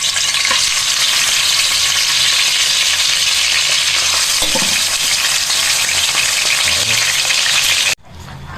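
Marinated pork for Filipino homba sears loudly in a hot pan, a steady dense sizzle running throughout before cutting off abruptly near the end.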